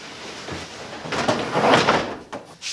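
A simple plywood drawer in a pickup truck camper build slides and knocks as it is opened or closed, a close, loud woody rumble with a couple of bumps.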